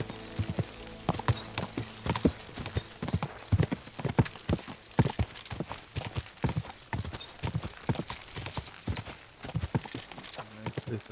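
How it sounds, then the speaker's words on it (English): Horse hooves gallop in Kingdom Come Deliverance 2, a fast, steady clip-clop of sharp beats that carries on throughout, fairly close and clear, with a voice speaking over it at times. "What a beautiful horse. Go!"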